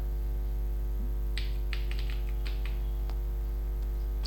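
Typing on a computer keyboard to enter a Java compile command: a short burst of light key clicks in the middle, close and faint over a steady electrical hum.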